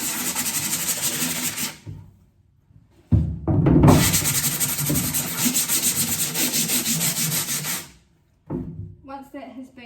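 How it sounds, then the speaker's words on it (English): A scrubber with dishwashing liquid works over a screen-printing screen, giving a loud, steady abrasive rubbing that stops for about a second, resumes for several seconds, then breaks off again before a short final burst. "get just a little bit of dishwashing liquid onto your scrubber and then clean it again"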